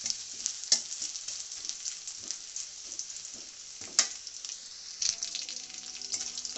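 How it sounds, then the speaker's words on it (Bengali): Onions fry in oil in a pan, giving a steady bright sizzle throughout, broken by occasional sharper spatters and scraping stirs, close and moderately loud with no talking. "কড়াইতে তেল দিয়ে পেঁয়াজ দিয়ে দিয়েছি।"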